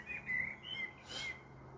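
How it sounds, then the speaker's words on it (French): Birds chirping outdoors in a few short, high whistled notes, faint and distant over a quiet background hum. "On profite du petit chant des oiseaux."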